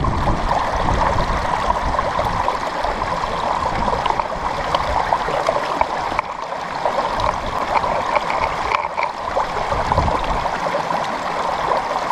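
A river in the Peak District near Swine's Back flows and gurgles steadily, a continuous close rush of water with no voices.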